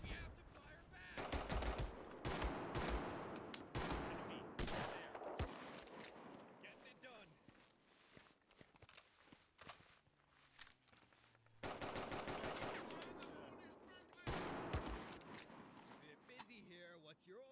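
Rapid machine-gun bursts and single shots ring out in a war video game, loud and close, coming in repeated volleys with pauses between them and shouted voices mixed in.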